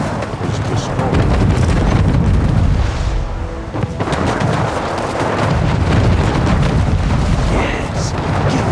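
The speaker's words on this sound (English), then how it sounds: "Ship is destroyed." A ship is destroyed in Anno 1800 amid a steady roar of cannon fire and rumbling explosions, loud and sustained throughout the naval battle.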